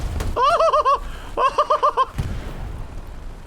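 An explosion in the World War II shooter game Hell Let Loose: sharp blasts and low rumble bracket a warbling, gobble-like tone that repeats in two bursts, then the boom fades into a low background roar.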